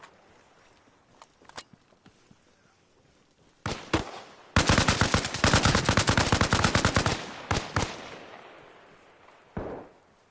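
Gunfire in Arma Reforger: a few scattered single shots, then a loud sustained burst of rapid automatic fire that trails into echoing decay, followed by a couple more isolated shots.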